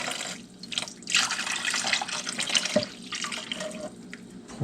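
Liquid poured into a roaster over a rubbed pork butt with a bit of liquid smoke, a steady close splashing trickle that runs for several seconds with a brief break midway.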